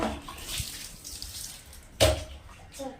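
A washed mat being wrung out at home, water splashing and dripping in short bursts with one louder splash midway, with faint voices in the background.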